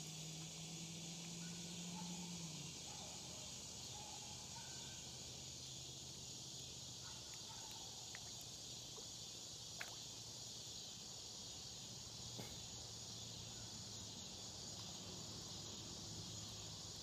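Cicadas buzz outdoors in a continuous, high, shimmering drone that holds steady throughout, with a faint low hum lingering underneath and no voices.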